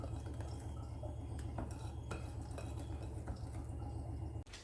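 Batter being mixed in a bowl, faint spoon scrapes and soft knocks over a low steady background hum, quiet and close, no voices.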